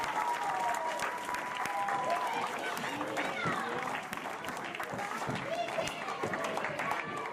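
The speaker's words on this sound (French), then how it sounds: "Qu'est-ce qu'on fait aux musiciens? On les applaudit avec beaucoup de moyens." Dance-hall crowd applauding the musicians at a small ball, steady clapping mixed with cheers and voices for several seconds, fairly close and full.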